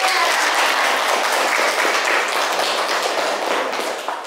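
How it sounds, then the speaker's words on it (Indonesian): A classroom audience of students applauds in a steady, dense patter of many hands that fades slightly at the close; no speech. "Beri tepuk tangan untuk mereka"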